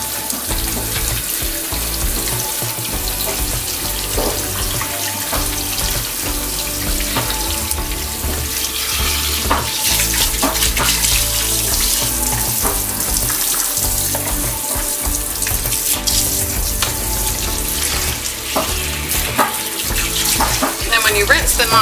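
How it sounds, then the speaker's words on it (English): Steady running water pours from a tap while a golden retriever puppy is rinsed during a bath, a continuous close splashing hiss with small shifts as the stream moves over the fur. "When you rinse them off, obviously I like to start from the nose back"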